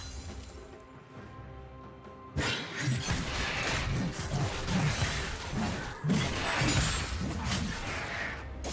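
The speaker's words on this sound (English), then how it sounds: "Blue team's turret has been destroyed." A turret is destroyed in a League of Legends top-lane match, a loud shattering crash with crumbling debris and whooshes that erupts suddenly after a quieter stretch and stays dense over game effects.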